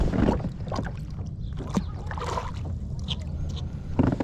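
A Feelfree Moken 10 PDL pedal drive fishing kayak moves across the water with soft sloshing and hull lapping, steady and close, while wind noise and a bit of talking sit over it.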